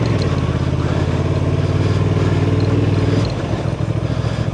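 A 2024 Honda Transalp 750 motorcycle ridden on an off-road OHV trail, its engine droning loud and close with a steady rumble that dips and roughens slightly as the throttle changes near the end.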